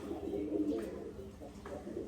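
Pigeons with eggs in a loft cooing in low, soft, continuous murmurs close by, with a faint voice underneath.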